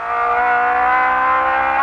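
On board a 1971 Ford Escort RS 1600 race car at Jarama, the engine is loud and close, holding a strong high-revving drone under power.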